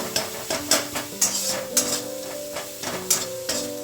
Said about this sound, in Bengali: এই মশলাটা কিন্তু কন্টিনিউ নাড়তে হবে যতক্ষণ না ভাজা হয়